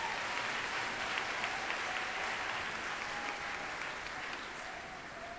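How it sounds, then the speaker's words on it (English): Audience at a high school graduation ceremony claps in a steady round of applause, a dense patter of many hands heard from a moderate distance that fades slightly toward the end. "I'd like to give him a nice round of applause first,"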